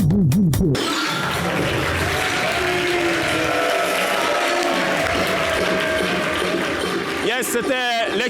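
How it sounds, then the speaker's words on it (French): Studio audience applauds a DJ on a French TV variety show, a dense sustained wash of clapping and crowd noise with music and voices bleeding through, loud throughout. "Merci de l'applaudir"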